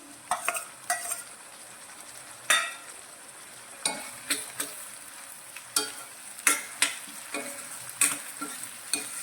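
Two medium tomatoes, finely chopped, are stirred into onion sautéing in a pan. A spoon gives irregular scraping strokes and knocks against the pan over a soft, constant sizzle, close by, with no talk.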